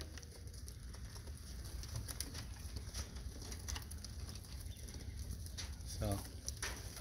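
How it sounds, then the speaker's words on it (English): Racing pigeons gather at feeding time in a loft, with soft cooing, fluttering and scattered wing claps close by, while someone talks over them throughout. "All the old birds know it's time to eat."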